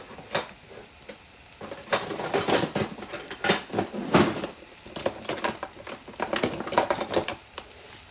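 A spoon scrapes, knocks and mashes churro dough of flour in a pan, producing irregular clattering strokes and thuds at close range with no talk over them.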